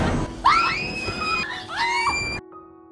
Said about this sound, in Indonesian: Sontak membuat mereka menjerit ketakutan.